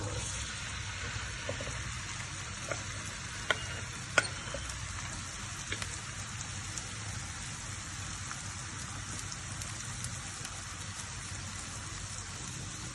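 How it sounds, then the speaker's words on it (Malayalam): A soft, continuous sizzle of okra frying in a pan, fairly quiet, with a few faint clicks and taps scattered through it. "ഈ വെണ്ടക്ക നമുക്കൊന്ന് വറുത്ത് വരാം ഞാൻ പാൻ വെച്ച് കത്തിച്ചിട്ടുണ്ട്"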